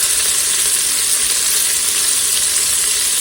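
Pancetta browning in a pressure cooker pot, a dense, even sizzle that stays loud and constant for a few seconds with no voices.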